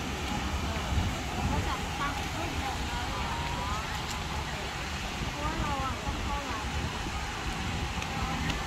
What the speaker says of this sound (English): the fountains have been turned on, and this adds great value to the scenery